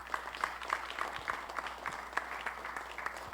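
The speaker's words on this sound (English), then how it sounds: "Please give them a resounding round of applause." An audience at a Belize film festival applauds quietly, with a few distinct, rhythmic claps standing out over the softer crowd clapping.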